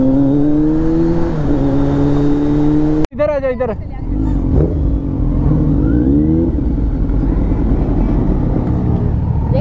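Superbike engines rev at a Triumph showroom opening: a steady loud engine drone, then a sharp crack and a rising roar that holds as a busy crowd chats in Hindi close by.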